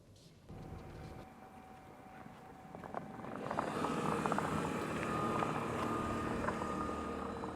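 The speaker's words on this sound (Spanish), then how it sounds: "si pones el modo Charge para que se active obligatoriamente el motor rotativo, ¿lo oyes?" A 2024 Mazda MX-30 e-Skyactiv R-EV starts its Wankel rotary engine in Charge mode to run as a generator, rising into a steady, smooth droning hum that builds in loudness and holds.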